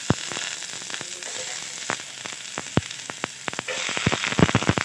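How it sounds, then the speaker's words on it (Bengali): Chopped onion frying in hot oil in a rice pan, a loud close sizzle spiked with sharp crackles and pops that grow busier toward the end, with no voices. "তেলটা গরম হতে থাক। প্রথমে দিয়ে দেব পেঁয়াজ কুচি"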